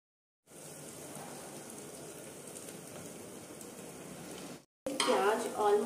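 Food browning in a frying pan gives a steady, close sizzle for several seconds, then cuts off briefly before a voice speaks over renewed crackling.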